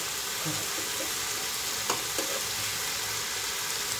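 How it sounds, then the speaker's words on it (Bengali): Fenugreek greens frying in a pan and being stirred: a steady close sizzle with a couple of sharp spatula clicks and scrapes. "এই মেথি শাক ভাজা।"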